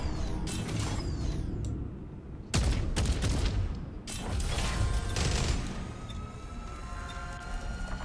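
Gunfire in a space-flight video game heard as dense, continuous bursts of shots and mechanical clatter, loud and close, with brief breaks between volleys.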